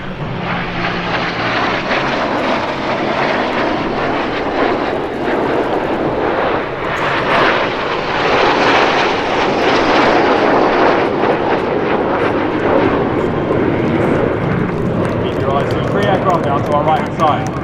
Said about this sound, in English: As the elements merge back towards each other to cross at show centre, this will be the first head-to-head pass of the display.